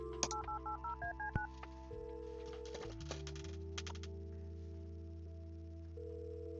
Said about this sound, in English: We call the dorm room as well.